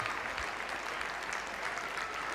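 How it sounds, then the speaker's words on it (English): A crowd at a Manchester United Women versus Everton Women league match applauds a departing goal scorer as she is substituted, an even, distant wash of clapping across the stadium. "That's a warm and richly deserved round of applause from those that have attended"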